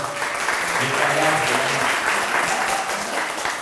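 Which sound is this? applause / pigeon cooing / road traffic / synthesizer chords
applause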